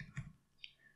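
Two or three soft computer mouse clicks while drafting in Autodesk Inventor, quick and quiet taps close to the microphone with no talking over them.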